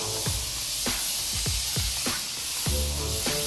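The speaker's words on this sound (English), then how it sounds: "you pull it back more, then there's the spray, there's the paint that comes out" A spray gun sprays car paint in a steady, loud, close hiss that runs unbroken throughout, with brief low thumps recurring at irregular intervals.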